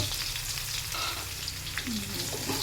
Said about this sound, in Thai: เอา กระเทียมโขลกนะครับ ผัดน้ำมันให้หอม